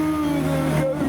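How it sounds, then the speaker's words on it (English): An RS car, an original Challenge race car converted for road use, speeds around a corner with a steady, loud engine drone and a slight pitch rise, heard close and alone. "Now something's coming at speed around the corner. It's an RS. He's not hanging about."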